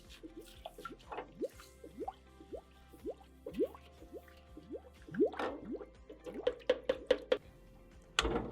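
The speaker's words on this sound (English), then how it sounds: "Take your brush and wipe the sanitizer all over the top." A brush spreads sanitizer across the top of a Taylor 341 machine, making wet squishing strokes and drips at an uneven pace, close up, ending in a louder splash, with no one speaking.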